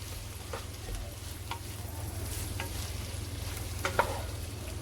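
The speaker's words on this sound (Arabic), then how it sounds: "راح نقلب فيه بس يدبل البصل" Onions stirred as they fry in a pan on an electric hob for Palestinian musakhan, a soft steady sizzle with a few faint scraping strokes of the spoon and small clicks, quiet and without talk.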